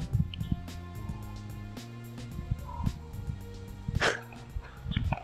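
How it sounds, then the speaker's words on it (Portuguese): A pet dog in a residential neighborhood lets out a series of short, sharp barks and yips at irregular intervals, fairly close and clear over a quiet outdoor background. "Olha o meu cachorro lindo lá."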